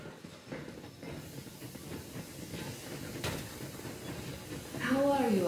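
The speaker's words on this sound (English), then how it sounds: "Yermak, full steam ahead." Steam train hissing in the video game Metro Exodus, a steady broad wash of steam and rail noise that swells toward the end, with faint voices underneath.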